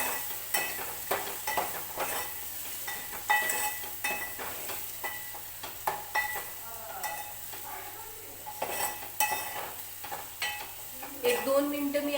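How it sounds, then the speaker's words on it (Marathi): Green chili and potato frying in oil in a home kitchen pan, a steady soft sizzle broken by repeated scraping and stirring clatters of a spoon against the pan, close and moderately loud. "एक 2 मिनिटं मी असंच हिरवी मिरची आणि बटाटा तेलामध्ये फ्राय करून घेणार आहे असाच"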